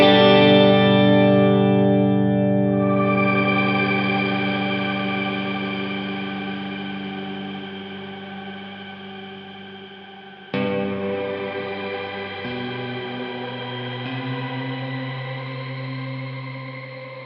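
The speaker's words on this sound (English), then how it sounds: "on the shimmer setting, it actually kind of still fades out, so you can just add shimmer to your sound when you want to" A NUX Atlantic delay and reverb pedal on its shimmer setting sustains a bright, swelling ambient wash of guitar tones that slowly fades, then a new chord rings in and shimmers on, with no talk.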